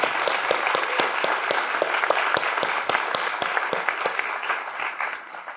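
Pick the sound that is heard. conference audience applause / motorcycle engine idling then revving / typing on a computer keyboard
conference audience applause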